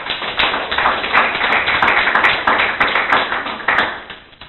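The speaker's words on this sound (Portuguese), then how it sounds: "Palmas para o Senhor Jesus." A church congregation claps, the sound close and rhythmic with sharp individual hand slaps over a busy bed of crowd noise, continuing steadily throughout.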